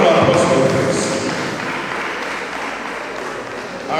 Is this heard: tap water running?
no